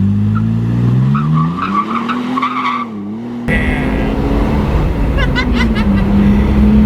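A Toyota Tacoma pickup's new high-clearance exhaust rumbles loudly as it pulls away from a stop, engine pitch climbing and falling through the gears, heard from close by outside.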